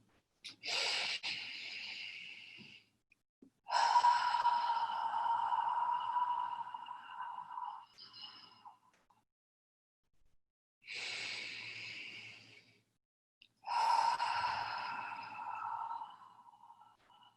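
Deep slow breaths drawn in and released, four long airy swells separated by pauses, close and fairly quiet, with no talking, during a guided sound-healing relaxation session.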